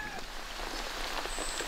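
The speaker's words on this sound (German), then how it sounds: "Es regnet seit Mitternacht." Steady rain falling in a coastal fishing area on the Camotes islands in the Philippines, a dense even hiss of drops close by, with no talk.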